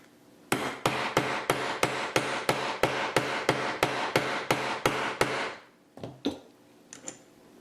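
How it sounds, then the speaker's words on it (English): Steady, rapid hammer blows on the top of a ring and hoop press ring out about fifteen times in an even rhythm, loud and close, followed by a few lighter, scattered taps. "The top on and hammer."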